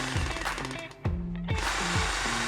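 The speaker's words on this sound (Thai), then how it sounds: "สังเกตนะครับเสียงสว่านยังมีกระแทกอยู่" A power drill whirs steadily up close, its tone dipping and surging as it bites into ceramic tile, with repeated knocking pulses despite the hammer function being off.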